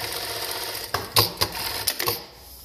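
A Jack A5E sewing machine stitches in reverse, producing a few short, close mechanical clattering bursts over a low motor hum, with no talking.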